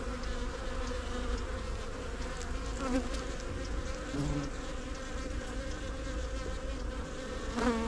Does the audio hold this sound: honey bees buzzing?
yes